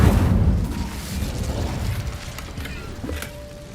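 Incendio fire spell cast in the Hogwarts Legacy video game, a loud whooshing burst at the start that fades into a rumbling, crackling tail with small mechanical clicks.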